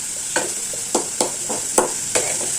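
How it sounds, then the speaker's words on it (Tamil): Chilli powder sautéing in a pan for a South Indian side dish: a steady oil hiss runs throughout, broken by about six scraping stirs of a spoon at a regular rhythm, close and clear, with no talking. "கொஞ்சம் அந்த மிளகாத்தூள் ஸ்மெல் போகிறதுக்காக நம்ம கொஞ்சம் வதக்கி விட்றோம்"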